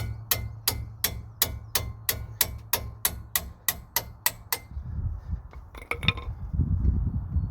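A series of about fourteen sharp, evenly spaced metallic strikes rings out as a hammer hits the brake disc of a 2017 Kia Optima, followed by clattering and rustling handling noise.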